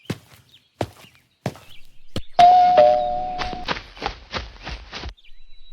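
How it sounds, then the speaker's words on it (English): A few footsteps or knocks come first, then a doorbell rings out loudly with a two-note chime. Several quick ringing hits follow before it stops. "Mommy, I heard a doorbell ringing, but no one is here."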